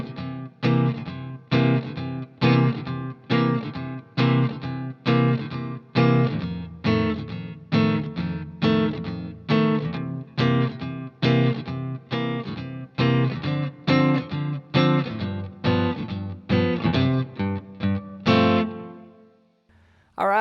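Electric guitar with a slightly driven, chorus-tinged tone chugs through a swinging 12-bar blues with a 2-5 turnaround, loud, close, rhythmic strums alone, fading on a final ringing chord.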